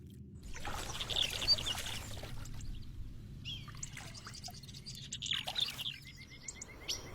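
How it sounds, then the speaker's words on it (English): Birds gather at a forest waterhole before sunrise, giving scattered chirps and calls over a low, steady outdoor background, some near and sharp, others fainter. "the birds leave the safety of the forest to quench their thirst at the waterhole"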